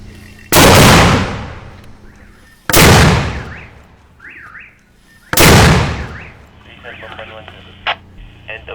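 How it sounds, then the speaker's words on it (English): Three loud, separate blasts of an army mortar being fired toward enemy territory during a Philippine military operation against militants, each a sharp broadband boom with a decaying tail, spaced a few seconds apart, with radio chatter and voices faintly between them. "they're just about to send this mortar into enemy territory"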